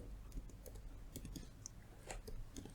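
Code is typed on a computer keyboard in a quick, irregular run of soft clicking keystrokes, close but quiet, with no voice over them.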